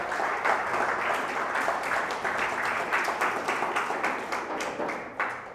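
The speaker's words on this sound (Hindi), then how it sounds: "आइए जोरदार ताली से खुदावन यीशु मसीह को धन्यवाद करें।" Church congregation claps loudly together during a Hindi-language service, a dense wash of hand claps that gradually thins and trails off, with a few sharp final claps near the end.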